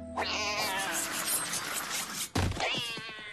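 A cat meows loudly and drawn-out, a long wailing yowl followed by another sharp cry after a brief thump, close by.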